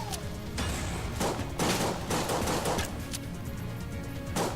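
Rapid gunfire from a weapon in the dungeon shooter Enter the Gungeon, with quick bursts of shots in close succession over a low game soundtrack, loud and punchy throughout.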